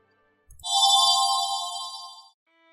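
A phone ringing, a single sustained electronic tone lasting under two seconds, clear and close against otherwise silent surroundings with no voices.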